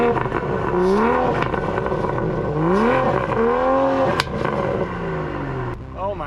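A Toyota GR Supra 3.0 with a full titanium Boost Logic exhaust accelerates through the gears, its engine note rising in repeated sweeps with gurgling between pulls. It is heard from inside the car, loud and steady.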